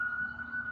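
An emergency siren wails outside with one sustained tone in a short snippet, moderately loud and steady, with no talk over it.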